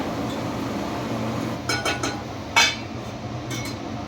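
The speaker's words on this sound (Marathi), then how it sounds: "आपण झाकण ठेवूया" A lid is set on a cooking pot of sheera, giving a few sharp metallic clinks and a brighter clatter near the middle. The sound is close and otherwise quiet, with no speech.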